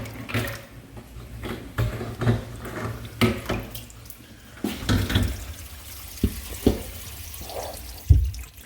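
Water runs and gurgles through newly fitted ABS drain pipes under a kitchen sink, with intermittent knocks and drips, heard close and alone.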